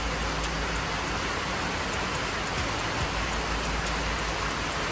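Steady rain falling on a hard surface, a constant dense hiss with no voices, fairly quiet and even throughout.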